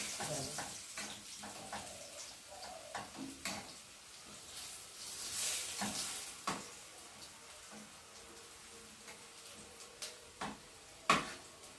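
Food fries in a pan in a home kitchen, a soft bursty sizzle with scattered clatters and taps of stirring, fairly quiet and irregular, with a couple of sharper knocks near the end.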